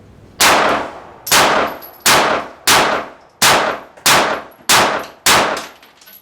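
Seven sharp, loud pistol shots from a S&W M&P Shield Performance Center with a ported barrel, fired indoors in a quick, evenly spaced sequence, each crack ringing briefly before the next.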